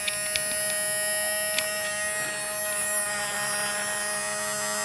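Homemade electric sander running with a steady tonal hum and buzzing whine, with a few light clicks at the start, sanding a PVC tube.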